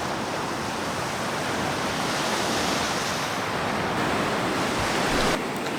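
Ocean waves wash onto a beach where sea glass is hunted, a continuous broadband roar of surf and foam with some wind, steady and fairly loud, with no voices.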